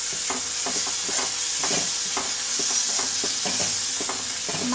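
Spices frying in oil with tomato added for a cauliflower, pea and potato bhaji, a constant close sizzle under repeated scraping stirs of a spoon in the pan, no talk.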